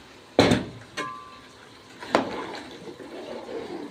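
Boiled water from a kettle poured onto green beans cooking in tomato sauce, preceded by a few sharp clinks of metal and glass, then a steady splashing pour that slowly tapers off.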